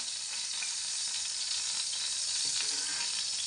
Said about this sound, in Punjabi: ਹੁਣ ਇਹਨਾਂ ਨੂੰ ਆਪਾਂ ਤੇਲ ਤੋਂ ਕੱਢ ਲੈਂਦੇ ਬਾਹਰ